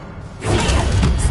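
The Revelio revealing spell is cast in Hogwarts Legacy, a sudden loud whooshing burst with a shimmering, crackling sweep that sustains briefly after a quiet start.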